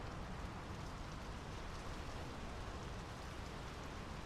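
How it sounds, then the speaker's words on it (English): Steady rain in a video game set by a fjord village, a dense, even wash of falling drops and soft patter that continues unbroken, with no voices over it. "The rain's picking up."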